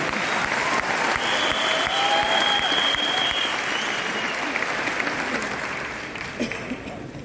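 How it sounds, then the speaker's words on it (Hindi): An audience at a Vestige awards function in Delhi applauds loudly for Deepak ji, dense sustained clapping that fades slightly toward the end. "एक बारी जोरदार तालियां दीपक जी के लिए।"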